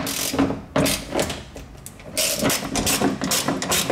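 Ratchet loosening 17mm seat belt bolts inside a BMW, a steady run of close mechanical clicking and grinding with brief pauses, moderately loud.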